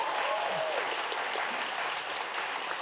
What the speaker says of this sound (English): Another round of applause, I think, for that.